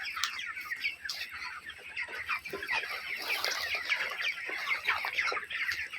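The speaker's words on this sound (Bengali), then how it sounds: "দেখেন আমার প্রত্যেকটা পাত্রের পাশে মুরগিগুলো উঠে উঠে পানি খেতেছে।" Broiler chickens on a farm cluck and chatter continuously in a busy flock while drinking water from waterers, with many overlapping calls close by.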